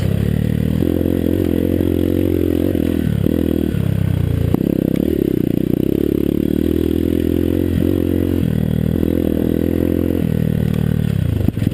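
A 2020 Hawk DLX 250 motorcycle climbs trail hills, its engine droning loudly and continuously with rising and falling revs, throttle dips and some clattering from the rough ground.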